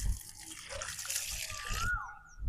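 Buttermilk mixed with water is poured from a mug into a large garden plant tub, a short, soft splashing pour.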